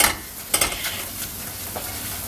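A spoon scrapes and stirs flour cooking in a pan as the base for a Mornay cheese sauce, with soft intermittent scraping strokes over a faint steady sizzle, close by and without talk.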